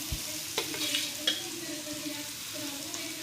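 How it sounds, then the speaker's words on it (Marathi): Ridge gourd sautés in a pan for a spicy thecha over a low flame, sizzling and frying steadily with soft stirring scrapes and a few clinks of a spatula, close by and without speech. "हे सगळे आता दोडके टाकून घेते आणि याला पण चांगले परतू देते"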